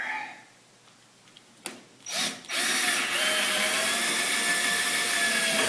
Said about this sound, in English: I'm going to put the screws in for the banister.